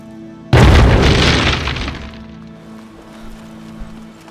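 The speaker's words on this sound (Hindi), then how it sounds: "ग्रेनेड!" A grenade blast in a thriller movie scene hits suddenly as a loud, close boom with a heavy low rumble, then decays into a lingering roar and faint debris over a low background hum.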